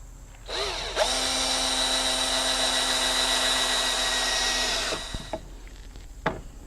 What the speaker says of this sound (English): Now I'm just going to drill some holes